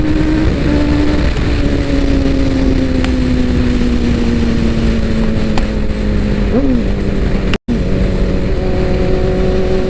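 A 2015 Honda CBR1000 motorcycle engine runs at full throttle on a highway, a steady loud drone whose pitch slowly falls, then rises briefly before a sudden cutout. Wind rushes underneath throughout.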